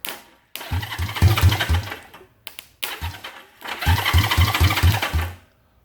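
A Honda CB350 motorcycle engine being cranked with a jump start, two bursts of fast rhythmic churning that stop without the engine catching, loud and close with no talking.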